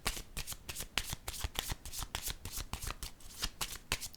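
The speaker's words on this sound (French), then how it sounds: "Je vais déposer une carte ici." Tarot cards handled on a table, a rapid run of crisp papery flicks and slaps, like a shuffle ending as a card is set down, quiet and close with no talking.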